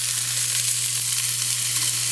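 Beef browns in a crock pot, giving a loud, steady sizzle with a low electric hum beneath it.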